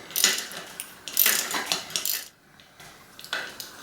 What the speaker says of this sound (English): I'm going to hold this nut here with a wrench and then unscrew it